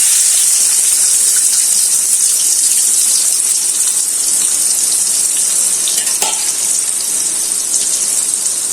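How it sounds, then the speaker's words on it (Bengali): Chopped onions go into hot fish-frying oil in a pot, giving a loud, even hiss of frying that runs unbroken throughout, with a faint tap or scrape midway and no talk. "এখন তেলটা গরম তো, পেঁয়াজ কুচিগুলো দিয়ে দিচ্ছি"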